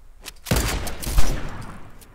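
Gunfire in a shooting video game fires as a short dense burst of loud, close shots, with one sharper blast standing out, over about two seconds.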